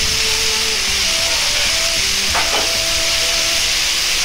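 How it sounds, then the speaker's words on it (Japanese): Bitter melon (goya) being stir-fried in a pan with meat and ginger gives a steady, loud sizzle throughout, with a brief burst of stirring near the middle and no talking. "あとは肉が焼けるまで炒めていくだけです。"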